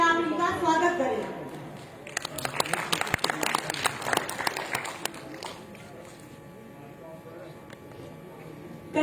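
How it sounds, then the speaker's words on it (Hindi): An auditorium audience at a youth programme event in Reasi claps to welcome a performance, with a loud burst of applause for about four seconds that follows a host speaking over a microphone and then fades. "तो प्लीज तालियों से जो है आप इनका स्वागत करें।"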